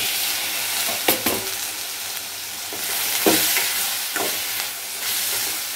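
Tomatoes sauté in a pan of oil with chilies for a coconut-free chutney, a loud continuous sizzle and hiss punctuated by several clacking stirs of a spoon against the pan.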